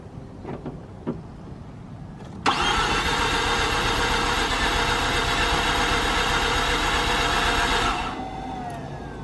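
Mazda RX-8 rotary engine being started after a starter repair: a few faint clicks, then an abrupt loud whirring crank that runs steadily for several seconds before cutting off, heard close up and alone.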